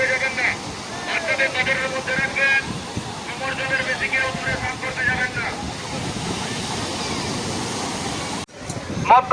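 Sea waves break on the shore at Digha in a continuous, loud rushing wash with wind buffeting the microphone, while people talk over it and a brief cut interrupts near the end.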